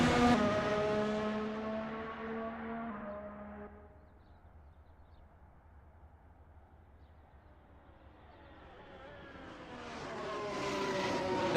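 A race car in a racing video game roars past loudly, fades into the distance, then swells again as it comes back around the track at Red Bull Ring, with no talking.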